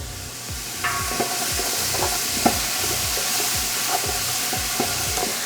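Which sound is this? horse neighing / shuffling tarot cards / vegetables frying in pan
vegetables frying in pan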